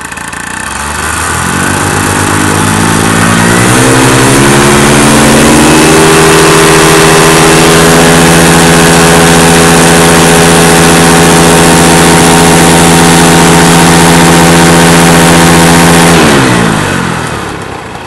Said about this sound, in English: So we give it some RPMs and just show that the motor is working pretty well.